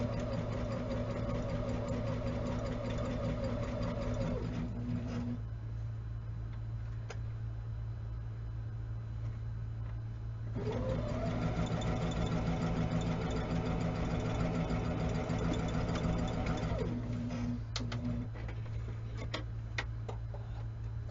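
Sewing machine stitching throw-size quilt blocks with back stitches, a steady rapid mechanical whir running in two bursts separated by a pause, close and moderately loud over a constant low hum.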